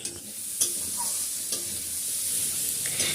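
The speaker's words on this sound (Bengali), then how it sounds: "সবার প্রথমে আলু আর পেঁপেটা ভেজে নিচ্ছি" Potatoes and papaya fry in oil in a pan with a continuous, close, broadband sizzle. A few soft stirring taps sound over it, and no one speaks.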